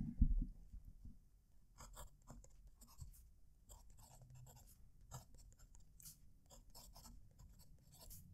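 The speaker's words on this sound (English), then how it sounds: "As I'm going over this lines here, the embossing, I can feel the pen bouncing along" Quiet, steady scratchy scraping of a pen dragged across rough embossed Fabriano paper, the nib skipping and bouncing over the texture in continuous close-up strokes with faint low background rumble.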